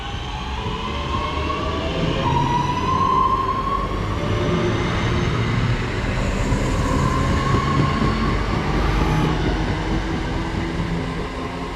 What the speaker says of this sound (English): departing it now is 323233, heading off to Manchester Piccadilly.